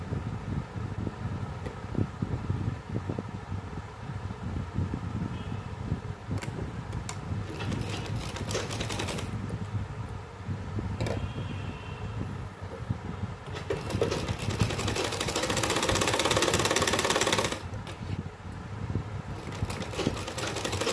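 A sewing machine stitches blouse fabric in a steady, continuous mechanical whir that runs throughout and swells louder near the end, with no talking.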